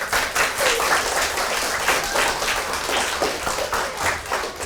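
Children in a primary school drama class clap for a classmate, steady close clapping with a lively pulsing rhythm that continues throughout.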